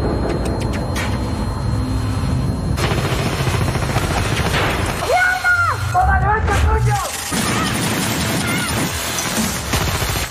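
Gunfire in a Money Heist shootout as police storm a building, dense bursts of shots and crashing action noise under continuous voice-over narration.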